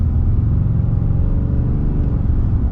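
A 2022 Ram 2500 Laramie heavy-duty diesel truck accelerating, a steady deep rumbling drone heard from inside the cab, even and continuous throughout.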